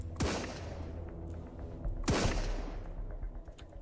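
Gunfire in the Sunkenland survival game: two sharp shots roughly two seconds apart, each with a booming reverberant tail over a low steady background rumble.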